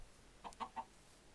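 Three short, quiet clucks from a Minecraft chicken, evenly spaced in quick succession over faint background noise, with no talking.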